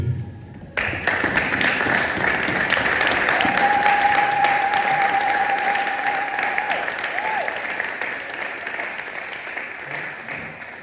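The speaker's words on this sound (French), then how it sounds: "Est-ce que nous pouvons nous lever et acclamer pour la parole de Dieu?" A church congregation at a Sunday service breaks into sustained applause, a loud, dense wash of clapping that swells and then slowly fades, with voices and a drawn-out vocal tone mixed in.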